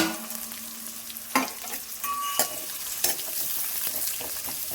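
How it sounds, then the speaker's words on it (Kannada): Onions fry in a pan with a steady sizzle, while a utensil scrapes and stirs through them in several sharp, close strokes. "ಇದು ಚೆನ್ನಾಗಿ ಫ್ರೈ ಮಾಡಬೇಕು."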